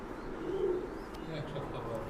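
Pakistani breed pigeons kept by a breeder in Bangladesh coo softly in a low murmur, with one clearer coo early on over faint background noise.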